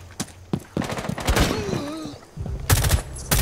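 Rapid bursts of gunfire from Rainbow Six Siege in a house map round, sharp broadband cracks clustered early and again near the end, with a brief rising tonal sweep in between and no talk over it.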